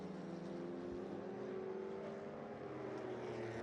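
A 1974 Porsche 911 RSR race car drives at an IMSA GT race, its engine a steady, fairly distant droning roar that holds evenly throughout with no talk over it.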